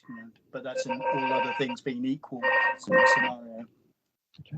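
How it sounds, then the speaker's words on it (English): A mobile phone rings with a bright, repeating melodic tone during an online roundtable discussion, sounding close and fairly loud beneath and between a man's ongoing speech. "I'm sorry, that was my phone."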